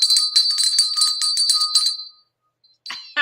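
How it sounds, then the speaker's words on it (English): A studio bell rings in a rapid trill of bright metallic strikes for about two seconds, stops into silence, then sounds once more briefly, loud and close with no talking. "I missed my studio bell."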